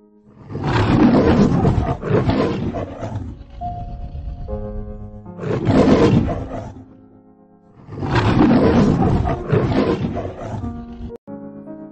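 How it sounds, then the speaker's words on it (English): A lion roars in three long, loud bursts separated by short pauses, close and deep with a rumbling, throaty character, heard alone with no talking. "Lion."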